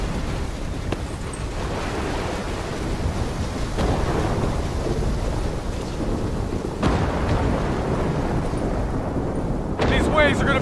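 Superstorm in the Call of Duty Black Ops III campaign: rumbling thunder over heavy rain and surging water, a dense roar with sharper thunder cracks, and voices shouting briefly at the end.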